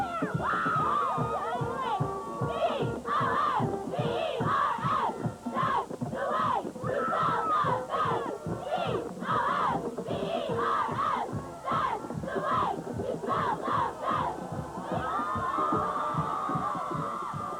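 A cheerleading squad chants a rhythmic, repeating cheer at a 1998 high school football game, with steady clapped and shouted beats from a group of voices carrying on for many seconds.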